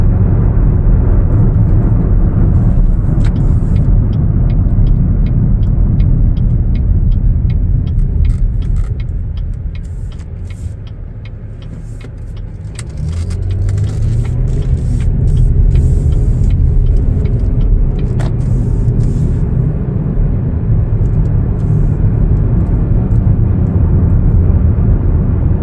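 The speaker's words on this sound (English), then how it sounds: "we're going to find a quick place to park right now" A 2022 Chevrolet Blazer RS driving slowly to find a parking spot, with a steady low engine and road hum inside the cabin that dips briefly midway and then returns, with no talking.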